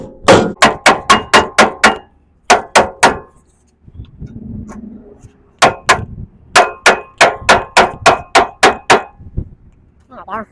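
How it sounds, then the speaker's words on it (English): Sharp repeated dead blow hammer strikes on metal while seating a Mazda M5R1 manual transmission, in quick bursts of six or seven, loud and close, with brief pauses and a low rustle between groups. "got me a dead blow hammer here"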